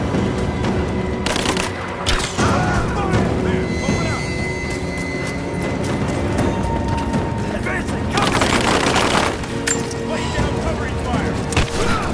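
Bursts of heavy gunfire and booming blasts in the video game Rise of the Tomb Raider, loud and continuous for the whole span, with shouted voices among the shooting.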